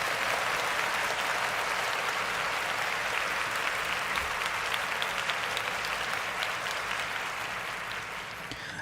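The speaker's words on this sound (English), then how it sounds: "Let's take a moment to clap it up." A crowd claps in sustained, dense applause that stays even and loud throughout, with no voices over it.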